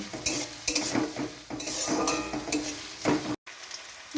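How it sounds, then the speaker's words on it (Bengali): Onions and green chillies fry in a pan with a busy sizzle, mixed with repeated spatula scrapes and clinks against the metal and a brief silent gap near the end. "এবার এটাকে ভালোভাবে ভাজব লাল লাল করে ভাজব"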